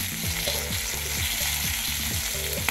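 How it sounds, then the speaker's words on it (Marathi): Half a spoon of cumin seeds sizzles in two spoons of hot oil, a dense, crackling hiss close up that holds steady with faint spattering pops and no speech. "2 चमचे तेल घालून घ्यायचं। एक अर्धा चमचा जिरं"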